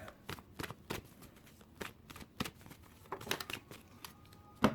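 Tarot cards being shuffled and drawn, a series of quiet, close riffling snaps at an uneven rhythm, each short and crisp against a near-silent room.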